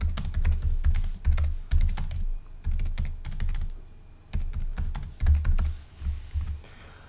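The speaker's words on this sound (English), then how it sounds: "type in a question for your quiz" A quiz question being typed on a computer keyboard, with quick bursts of crisp, close key clicks separated by short pauses and no talking.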